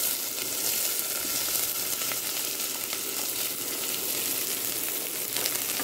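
Onions and green chillies frying in a pan for Chettinad chicken curry, a steady, close crackling sizzle throughout with no one speaking.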